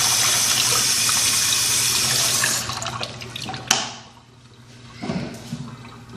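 Hot water runs steadily from a tap for hand washing, loud and continuous for a few seconds, then cuts off, leaving a few splashes and drips.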